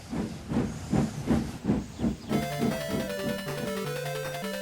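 A steam locomotive puffs away in loud, rhythmic hissing chuffs, about two per second, then music comes in over the fading steady puffing.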